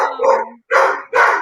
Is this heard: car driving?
no